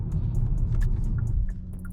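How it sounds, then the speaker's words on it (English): A 2021 Hyundai Elantra with a 147-horsepower engine and CVT accelerates on the road, heard from inside as a low steady rumble and engine drone with faint clicks and ticks above it. "So stepping on it a little bit, the engine actually wakes up a bit."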